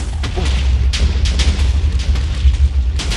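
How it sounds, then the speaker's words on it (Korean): TNT blowing up in Minecraft, knocking whole houses and trees into the air: a steady low rumbling roar of repeated booms and bursts, loud and close, continuing without pause and with no voices. "TNT로 어? 안 터지는데요? 저기요? 오 터진다 터진다 오."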